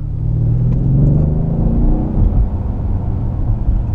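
A 2016 Mercedes S 63 AMG with 4MATIC drives along, its engine giving a deep, steady rumble and smooth low drone under light throttle, heard from inside the car without speech.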